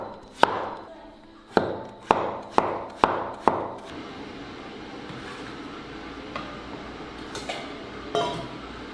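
A knife slices through half of a peeled bottle gourd on a cutting board, giving six sharp, evenly spaced chops up close, then quieter scraping and faint taps as the pieces are handled.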